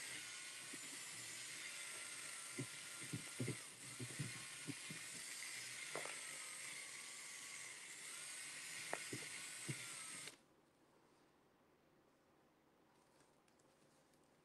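An electric mixer whirs steadily, close and loud, as it churns Venetian plaster in a container, with bumps and scrapes through the run before it shuts off and leaves near silence.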